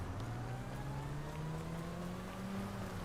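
A sheriff's patrol car in a video game drives along with a steady, loud engine hum whose pitch rises slowly, no voices heard.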